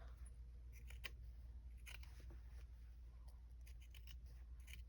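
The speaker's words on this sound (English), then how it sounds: "I'm going to cut along this line." Scissors snip through fabric along a marked line in a quiet sewing setting, a series of soft, close, crisp cutting clicks repeating irregularly over a low steady background hum.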